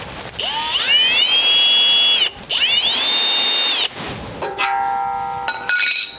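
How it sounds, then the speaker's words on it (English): A power drill pre-drilling holes for aluminum railing on a concrete porch spins up twice with rising whines, each run lasting a couple of seconds, followed by a brief tonal ringing; loud and close. "and pre-drill my holes"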